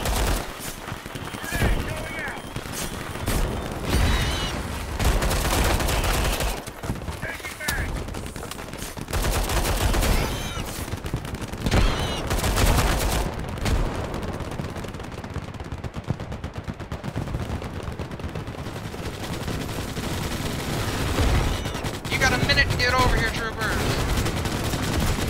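Sustained gunfire in the game Starship Troopers: Extermination, continuous rattling volleys and heavy blasts over the full length, loud and dense with voices mixed into the battle.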